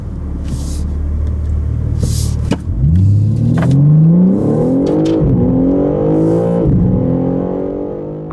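A 2023 BMW M3 Competition 50 Jahre BMW M edition sounds off up close: a low idle rumble, then the engine revs hard in one rising surge, dips briefly and climbs again before settling, loud throughout with no talking.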